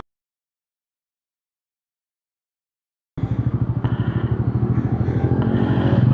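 A Bajaj Pulsar N160 motorcycle's oil-cooled engine runs steadily while riding, its dense pulsing note starting abruptly after three seconds of silence and staying loud and close.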